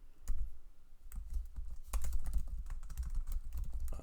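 Code being typed on a computer keyboard, a quiet, close run of irregular key clicks and taps in short bursts with brief pauses.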